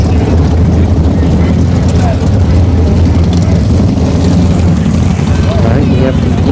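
A Toyota A90 Supra at a drag strip gives a loud, steady low rumble mixed with wind buffeting on the microphone, continuous throughout, with a person talking over it.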